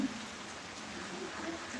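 Soft, steady rain patters down continuously at a distance, a faint even hiss with no voices.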